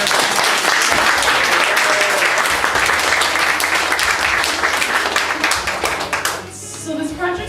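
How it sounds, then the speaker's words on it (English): A crowd at a high school launch party claps loudly and densely, sustained for about six seconds before thinning out and fading under other room sound. "I want us to give us another round of applause for"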